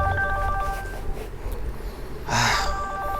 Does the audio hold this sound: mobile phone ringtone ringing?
yes